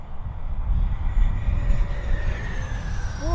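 An FMS Super Scorpion 90mm electric ducted fan model jet at full throttle, a steady loud rushing roar with a rising whine near the end, no voices.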